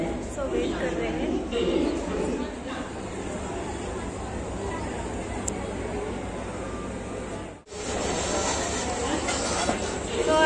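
A train arriving at a busy railway station, its rumble and wheel noise carrying steadily beneath a crowd's chatter and announcements, with nearby people talking throughout.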